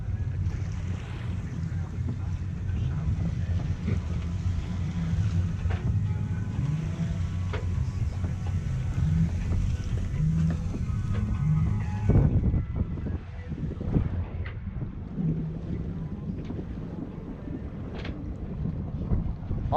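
A Dufour 375 GL sailboat under sail, carried by steady wind rush and water washing along the hull, with microphone buffeting and occasional knocks aboard, continuous and close.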